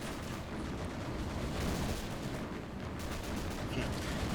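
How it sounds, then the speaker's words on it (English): A tank burns in Men of War: Assault Squad 2 during the Battle of Kharkov, giving a dense, continuous crackling roar amid battle noise, fairly loud and unbroken throughout. "You can still hear the tank burning"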